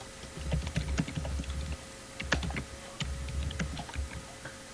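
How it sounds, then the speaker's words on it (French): Fast, forceful typing on a computer keyboard, a dense run of sharp key clicks in uneven bursts with a brief pause midway, close and fairly loud, no voices. "C'est moi qui martèle sur mon clavier, toutes mes excuses."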